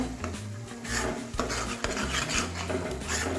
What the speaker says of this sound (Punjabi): ਹੁਣ ਆਪਾਂ ਮਿਕਸ ਕਰ ਦਵਾਂਗੇ